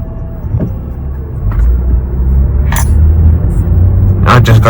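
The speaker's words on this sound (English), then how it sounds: "There's hell of traffic." Steady road traffic on a daytime street, with a low engine rumble running throughout and cars swishing past. A louder pass builds near the end.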